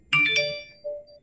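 A phone's email notification goes off as a bright two-note chime, then a softer single tone rings out a moment later, clear and close with no talk over it.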